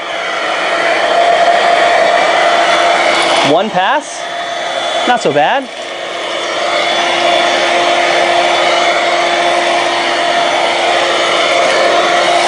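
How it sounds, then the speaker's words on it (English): A corded Dirt Devil SimpliStik stick vacuum drones loudly and steadily at close range, its motor whine continuous throughout, with two brief dips as it passes and someone speaking briefly over it. "Don't forget to turn the vacuum on."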